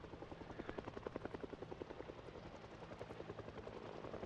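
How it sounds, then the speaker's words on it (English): A helicopter circling in Project Zomboid gives a continuous rhythmic rotor chop, fairly faint and distant, holding steady throughout with no talking. "with the helicopter circling around"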